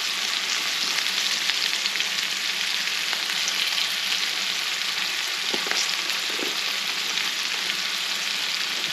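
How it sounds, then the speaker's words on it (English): Sliced baby bella mushrooms sizzle and crackle steadily in a pan on an outdoor grill, a continuous frying hiss with small pops and occasional stirring sounds, no talking. "I'm going to add some sliced mushrooms"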